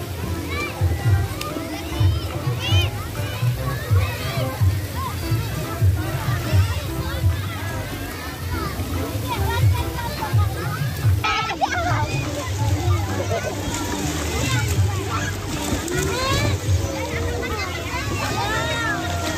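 A child swims in a pool at Artha Tirta, Purworejo, Central Java, with rhythmic sloshing and splashing water throughout. People talk over the water, including a voice, and the scene sounds busy and close.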